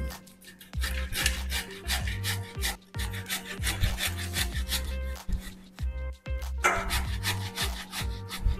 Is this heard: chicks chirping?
no